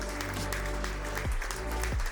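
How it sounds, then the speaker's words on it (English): Scattered audience applause at a NAPA Racing UK livery reveal in the Silverstone Museum, a steady wash of clapping under a low hum, with a couple of brief thumps. "I did want to ask a round of applause."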